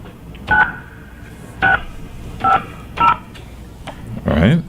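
Telephone dialing tones beep on a radio show phone line, four short evenly spaced dual-tone presses followed by a burst of garbled line noise.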